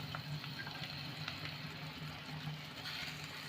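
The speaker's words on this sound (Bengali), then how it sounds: "এবার বেগুনগুলো তেলের মধ্যে দিলাম।" Eggplant slices shallow frying in a little hot oil in a kadai, giving a steady, even sizzle and crackle with occasional pops, close and continuous, with no talking.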